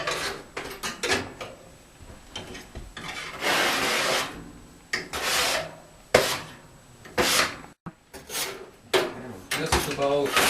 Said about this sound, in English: Let's scrape these ashes into the firebox.